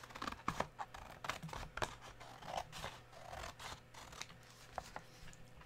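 Scissors trimming around a paper alligator cutout, a quiet, close series of crisp snips and light paper rustles with no talking.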